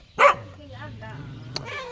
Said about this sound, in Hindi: इधर के कुत्ते देखिए भाई, ऐसे छोटे छोटे कुत्ते होते हैं ना इधर के